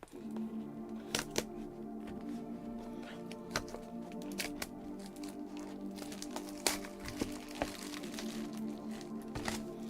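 Pokémon card packs are shuffled by hand, giving soft rustling and crinkling with scattered sharp clicks and snaps at close range, with no talking heard.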